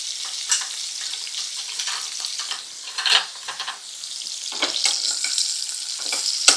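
Steak and potatoes sizzle in a pan while being basted, and the crackle swells and fades in bursts with each spoonful of hot fat, close and with no talk.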